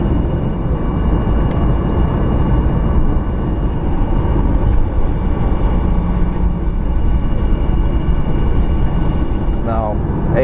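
A Norwegian Air Boeing 737 taxis toward the runway, a loud, steady cabin roar of engines and air systems holding constant throughout, with a faint voice briefly heard.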